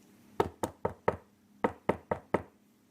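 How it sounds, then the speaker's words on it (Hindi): Knuckles rap on a bedroom door early in the morning, two close bursts of four sharp, loud knocks separated by a short pause, with no voices. "अपनी बहू का दरवाजा खटखटाती है।"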